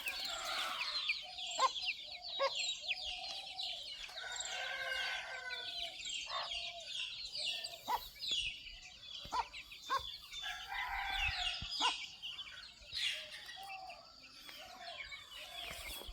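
Native country chickens cluck steadily in a flock while a rooster crows several times through the stretch, with the calls overlapping and no voices present.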